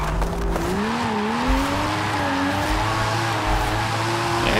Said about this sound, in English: We'll just drift right through past this car right here